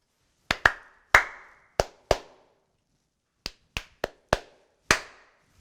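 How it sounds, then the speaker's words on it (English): Sharp hand claps used as a film slate before an interview about a haunted castle, nine crisp isolated smacks in two groups with brief room decay and silence between, no talk. "And one more clap."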